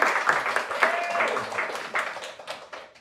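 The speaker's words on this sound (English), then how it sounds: "give Tammy a warm applause." Applause from a press conference audience gathered outdoors on a rainy day, a dense patter of many hands clapping at moderate level, thinning toward the end with voices mixed in.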